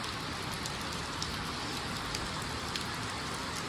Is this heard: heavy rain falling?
yes